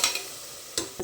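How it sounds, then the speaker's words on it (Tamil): Ginger-garlic paste is stirred into browned onions for a beef curry, making a soft sizzle broken by two or three brief utensil scrapes against the pan. "இந்த பச்சை வாசனை போகிற வரைக்கும் நல்லா மிக்ஸ் பண்ணிக்கலாம்."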